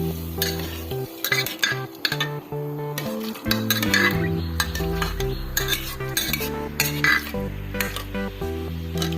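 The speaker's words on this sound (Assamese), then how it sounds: "এতিয়া অলপ লৰাই দিম।" A spoon stirs vegetable pulao of rice and water in a pot, giving scraping and clinking knocks at an irregular rhythm over a steady tonal background, close and moderately loud.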